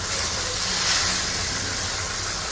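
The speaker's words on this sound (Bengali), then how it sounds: "এবার বাকি মাছগুলো আমি এক এক করে সব ভেজে নেব।" Shole fish frying in hot oil in a Bengali kitchen, a steady, dense sizzling hiss that runs without a break throughout, close and fairly loud, with no talk.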